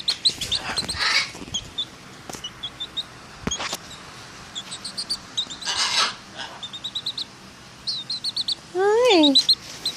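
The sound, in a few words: chicken chirping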